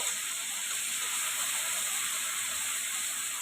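Potatoes lightly frying in a pan give off a steady, even hiss that runs unbroken and fairly loud throughout, with no talk.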